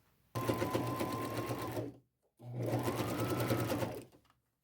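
A sewing machine stitches braids onto an upcycled collage fringe vest, running in two steady, close bursts of about two seconds each, separated by a brief pause.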